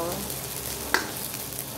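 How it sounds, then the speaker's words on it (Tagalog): Ginger sautéing in a hot pan, frying before squid goes in: a steady, close sizzle with one brief scrape of stirring partway through. "ito po yung luya natin. Gisa-gisa lang natin yan, guys"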